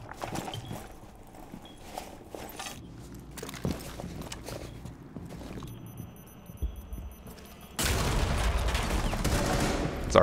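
Gunfire in a Rainbow Six Siege match: scattered sharp shots and thumps through the first part, then a loud, dense burst of continuous firing and noise in the last couple of seconds.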